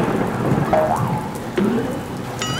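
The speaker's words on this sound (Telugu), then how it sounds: "బయట ఉరుములు మెరుపులతో కూడిన వర్షం పడుతోంది" Steady outdoor rain patters on surfaces throughout a thunderstorm, with low thunder rumbling beneath the continuous downpour and a few faint tonal sounds drifting over it.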